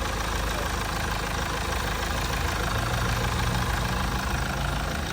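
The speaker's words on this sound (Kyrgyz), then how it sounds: "Мотор жагы четко оталып турат." The engine of a 2019 Kia Carnival idles evenly in a loud, close, steady hum with no breaks.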